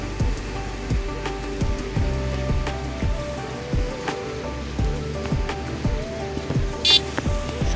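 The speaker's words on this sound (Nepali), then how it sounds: "हेर्दोस् यत्रो खत खोला छ यो तरेर जानुपर्छ" A large river near a forest rushes past in a steady, close wash of water, with recurring low surging thumps beneath the constant spray.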